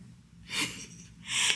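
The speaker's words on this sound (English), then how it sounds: "If you're very quiet, you get to hear her snore" A three-year-old female Cavalier King Charles spaniel snoring in her sleep, two soft breathy snores about a second apart, close and quiet, with no talking.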